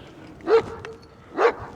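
A dog gives two short, sharp barks about a second apart, moderately loud and fairly close, over a soft outdoor background with wind.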